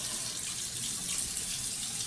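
Warm water runs steadily from a tap for washing, a continuous close hiss and splash with no voices.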